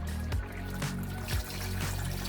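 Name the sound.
stock water poured into rice for Nigerian jollof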